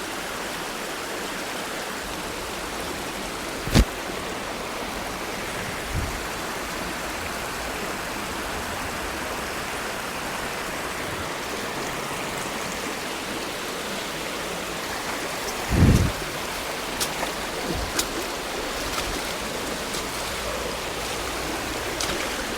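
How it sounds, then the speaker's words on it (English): Fast white water rushes steadily down a river, a dense, continuous roar heard close up, with a couple of brief thumps and splashes breaking the constant flow. "some really fast stuff here, proper white water"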